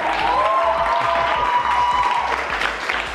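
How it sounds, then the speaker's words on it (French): A school audience applauds steadily, a dense wash of clapping with a tonal sound ringing faintly underneath. "Applaudissez pour que j'entende."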